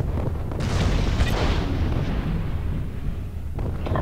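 A heavy weapon on an Ares mech in MechWarrior Living Legends fires with deep booming blasts, a sustained roaring barrage loud and close for several seconds.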